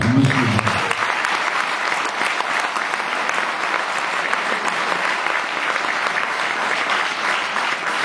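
Sustained audience applause at a Lions Club evening, a thick even clapping from a roomful of people that carries on steadily, with a brief voice at the very start.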